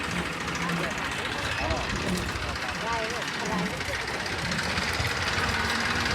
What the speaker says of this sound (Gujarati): ટ્રેક્ટર આવી ગયું છે રેડો કઢાવવા માટે